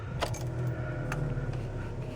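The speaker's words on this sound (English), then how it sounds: "I've just gone to put the key in the ignition, start the car." Keys jangle and click into the ignition of a 2010 Hyundai i30, a couple of brief metallic rattles over a low steady hum, close and fairly quiet.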